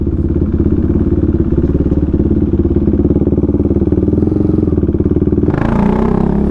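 A KTM Duke 390 motorcycle being ridden, its single-cylinder engine running steadily and loudly up close with a constant throbbing drone that shifts near the end.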